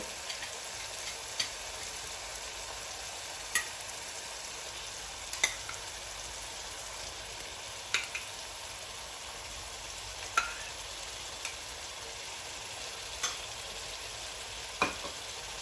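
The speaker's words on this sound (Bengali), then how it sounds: "মধ্যে এখন আমি আগের থেকে ভেজে রাখা ডিমগুলো দিয়ে দিব" Pre-fried eggs go into a pan of frying onion masala, a quiet steady sizzle with scattered sharp clicks of a spatula against the pan.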